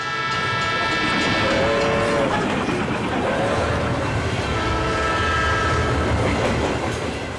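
Mumbai Jaipur Express train pulling out, a steady rumble of rolling wagons and clickety-clack with a drawn-out horn sounding in the background throughout.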